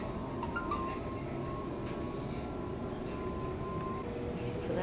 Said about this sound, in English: we're on the train going up to Pymble